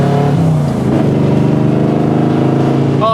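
A 1975 Corvette with a 4-speed manual transmission revs its engine while driving, a loud, close, throaty rumble that climbs and pulses steadily, with a brief higher whine near the end.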